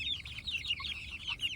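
A young hen raised in a chicken tractor clucks and chirps continuously near the listener, a busy run of high, quick trilling notes over a low background rumble.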